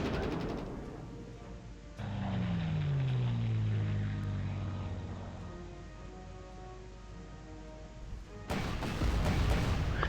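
Incoming artillery fire in the PC World War II strategy game GC 39-45 Rommel: a loud falling shell whistle over a dense rumbling wash, followed near the end by a sharper, louder burst of impact noise.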